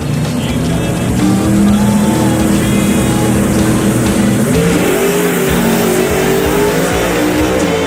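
Two Camaro Pro Mod drag cars, one black blower car and one orange turbo car, launch side by side with a loud, sustained engine roar and rising revs that fill the whole stretch.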